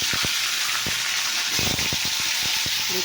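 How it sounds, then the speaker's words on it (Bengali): Fish and fish roe frying in hot oil, a steady loud bubbling sizzle with scattered crackles and pops close by. "তেল গরম হয়েছে। তাই দেখো মাছের তেলটা ভেজে নেবে।"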